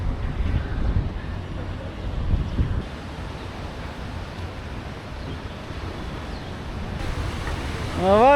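Sea waves wash against the shore in a steady broadband rush, with gusts of wind buffeting the microphone and a louder surge near the end.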